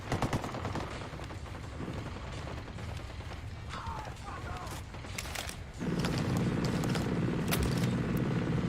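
Rapid automatic gunfire in a Ghost Recon Wildlands firefight, a sustained rattle of shots under voices that grows louder and denser in the final seconds, with mechanical clatter mixed in.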